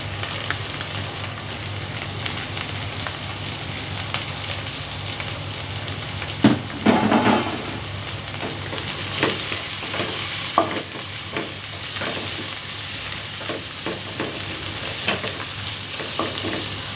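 Tomatoes sauté with browned onions in a pan for chicken curry, a loud continuous sizzle with frequent stirring scrapes and a brief louder burst of spattering partway through.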